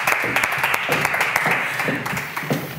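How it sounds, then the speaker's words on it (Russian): Studio audience applause on a Russian TV family game show, a short burst of dense clapping heard close and fairly loud, with a host's voice briefly over it. "Аплодисменты, друзья."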